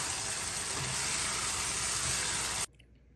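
Fatty beef masala with fresh coriander leaves sizzles loudly and steadily in a pan as it is stirred, then the sound cuts off abruptly.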